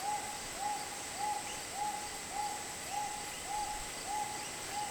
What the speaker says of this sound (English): It's a really weird sounding bird. It almost sounds like a car alarm or something.